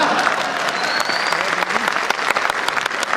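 An audience claps at a Hindi satirical poetry performance, with loud, dense, sustained applause from a crowd filling the whole stretch.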